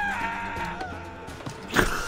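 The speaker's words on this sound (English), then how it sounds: "Nice death scream there." Character death scream in Assassin's Creed 4, a short strained cry that flares loudly near the end over game background noise.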